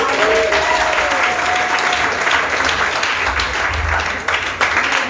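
Church congregation applauding and acclaiming continuously and loudly, dense clapping with crowd voices and cheering layered on top.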